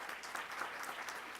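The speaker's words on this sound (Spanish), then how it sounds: "un aplauso también en la lejanía a Antonio Lomelín" Applause from the audience at the opening ceremony of a Latin American congress of audience ombudsmen, a steady wash of clapping at moderate level with no talk.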